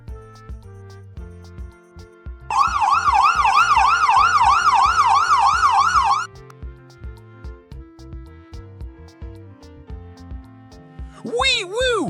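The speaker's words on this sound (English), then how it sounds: "What sound does a fire truck make?" A fire truck's emergency siren wails loud and steady in a rapid rising-and-falling pattern for about four seconds, set between bouncy background music, with a short higher siren burst near the end.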